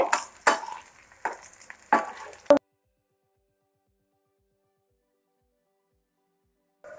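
Sliced bitter gourd frying in oil gives a few short bursts of sizzling and scraping as it is stirred. Four or five brisk rustling surges come in quick succession, then the sound cuts to silence.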